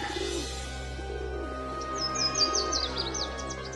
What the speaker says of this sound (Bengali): শুনতে পাচ্ছিস না পশু পাখিগুলো কেমন শোরগোল করছে?